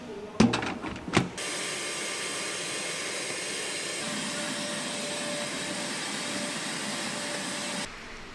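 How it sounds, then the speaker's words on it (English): A Hoover vacuum cleaner sucks up sanding dust aboard a boat, opening with a few loud knocks and bumps before settling into a steady, close, even roar with a faint whine that runs unbroken, then cuts off near the end. "I don't know how people could work without a Hoover, the amount of dust that creates."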